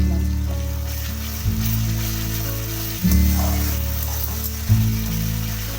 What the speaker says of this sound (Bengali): শুনে একটু জল আমি এখানে অ্যাড করে দিলাম